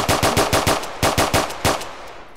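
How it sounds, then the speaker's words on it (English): A whole magazine emptied in Arma, rapid automatic gunfire in tight bursts of sharp cracks, a short pause, then another volley trailing into a brief echo, loud and close with no talk. "I just pumped the whole mag into them, they didn't go down"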